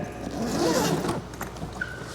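A zipper is pulled on a Mercedes-Benz leather luggage bag made to match a restored 280SL Pagoda, a close, quiet rasping run lasting about a second, followed by faint handling sounds.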